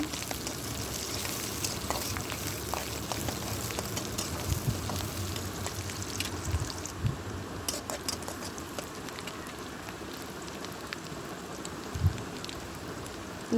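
Chopped green chilli and onion fry in a pan for a Bangladeshi coconut and taro-stem dish, making an even, crackling sizzle with occasional soft knocks from the utensil.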